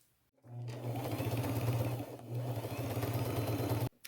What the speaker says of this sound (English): I'm going to get it pinned on, sew it on just like I did the rest